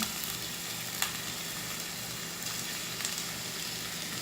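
Chopped onion and garlic sauté in oil in a pot with a steady, close crackling sizzle, broken by a couple of light utensil taps.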